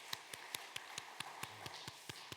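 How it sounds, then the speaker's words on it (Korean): A church congregation clapping in a steady, even rhythm, about ten sharp claps in quick succession, fairly close and moderately loud, to welcome a young soldier during a Sunday service. "박수로 환영하도록 하겠습니다."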